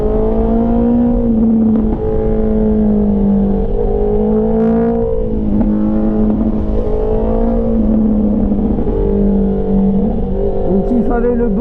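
A 2024 Honda CBR650R engine sings steadily while riding winding coastal curves on the Côte Vermeille, a loud, continuous tonal whine that rises and falls gently with the throttle and is heard alone throughout.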